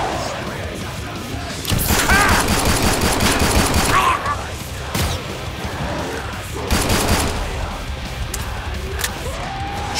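Rapid automatic gunfire in Killing Floor 2, played as a Field Medic on Hell on Earth difficulty against Hans Volter, with loud sustained bursts around two and seven seconds over ongoing in-game action.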